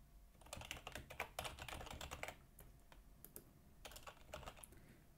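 Someone types an email on a computer keyboard, the keys clicking in quick, quiet flurries with a short pause in the middle before the tapping resumes.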